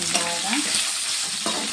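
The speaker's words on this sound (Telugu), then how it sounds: "వేగించుకోవాలి." Ridge gourd chutney ingredients with dried red chillies fry in a pan, giving a bright continuous sizzle broken by the scrape and clatter of stirring, close and loud.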